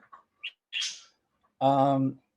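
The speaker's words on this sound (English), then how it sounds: "Oh man, the stupid birds." Birds chirping nearby: a few short, separate tweets and calls scattered over a couple of seconds, ending in one longer, clearer call.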